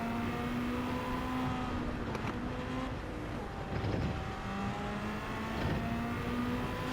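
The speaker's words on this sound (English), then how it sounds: "downshifted to third and then quickly upshifted" A GR.1 race car engine roars steadily in Gran Turismo 7 on a damp track, its pitch dipping with a downshift to third and then rising again as it quickly upshifts, loud and continuous without speech.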